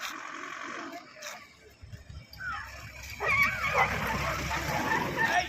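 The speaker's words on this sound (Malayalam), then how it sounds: "ഒരുപാട് പട്ടികൾ നായ്ക്കളുണ്ട്" Several dogs barking and yipping in a village near Kodaikanal, with some barks close and some farther off over rustling outdoor background noise.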